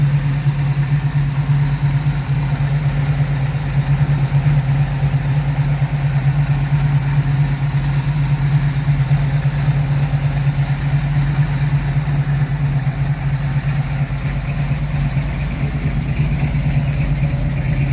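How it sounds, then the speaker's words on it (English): A 1972 Chevelle project car's engine idles steadily and close by, a continuous low rumble with a constant hum and no variation in pace or loudness. "let me give you a picture of that engine"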